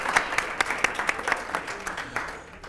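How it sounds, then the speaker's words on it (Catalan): A studio audience at a televised word quiz gives a contestant a short round of applause that starts with crisp claps and softly tapers off. "li fem un aplaudiment"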